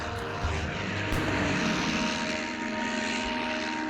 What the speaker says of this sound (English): This one's only big enough to launch a scout plane with a catapult.